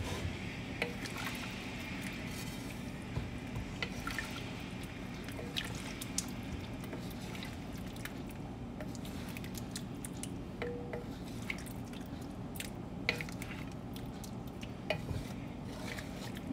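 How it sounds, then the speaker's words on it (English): Hyderabadi chicken dalca stirred in a cooking pot, soft wet squishing and scraping with occasional light clinks of the spoon against the pot, quiet and steady without talk. "Give it a nice mix."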